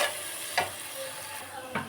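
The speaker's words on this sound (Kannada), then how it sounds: "ಇದನ್ನು ಸ್ವಲ್ಪ ಫ್ರೈ ಮಾಡ್ಕೊಳ್ಳಿ ಚೆನ್ನಾಗಿ" Vegetables frying in a pan with salt and turmeric for poha upma, a constant soft sizzle broken by three brief stirring scrapes of a spoon against the pan.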